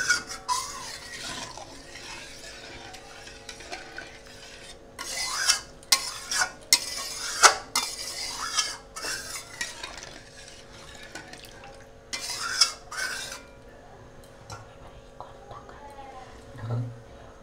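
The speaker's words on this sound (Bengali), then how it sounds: "নাড়াচাড়া দিচ্ছি।" Rohu fish kalia curry stirred in a pan, bursts of scraping and bubbling strokes in the middle, over a faint low simmer, with a voice talking through parts of it.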